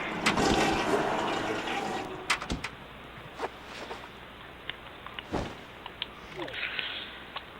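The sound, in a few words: toilet flush in The Sims Bustin' Out video game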